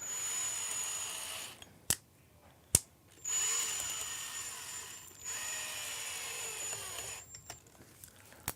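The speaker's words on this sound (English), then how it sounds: "let's lower the drill a little." A power drill whines in sustained high-pitched bursts, stopping and restarting several times with sharp clicks between runs, close and fairly loud.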